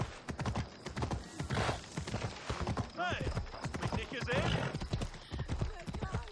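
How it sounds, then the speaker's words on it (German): A horse ridden at a steady gait in Assassin's Creed Odyssey, its hooves beating a quick, rhythmic clip-clop close by, with brief neighing sounds mixed in. "Er reitet hier irgendwie voll den Umweg, habe ich das Gefühl."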